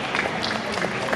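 Short burst of crowd applause at a live comedy show in Mérida, Yucatán, moderately loud and dense, with scattered voices mixed in.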